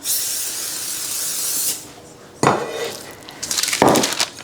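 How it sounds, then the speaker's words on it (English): Close hissing bursts of a cooking oil spray can onto a cake tin, one long spray then shorter ones, with metallic pan clatter between them. "I'll just spray a little bit of oil on it away from the camera"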